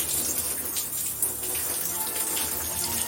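Shower water runs steadily in a bathroom, a continuous close hiss and patter with no pauses and no talk.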